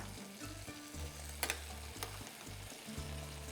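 Potatoes sizzle and fry in a pan over medium heat, a steady close crackle with a low rhythmic stirring rumble and a couple of sharp clinks.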